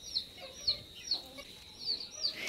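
Village chickens cluck in short, sharp bursts several times at a moderate distance, with quiet background and no talking.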